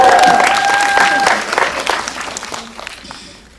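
Applause from a cinema audience at a film screening Q&A, fairly loud and continuous at first with a brief tone over it, then tapering off as it dies away.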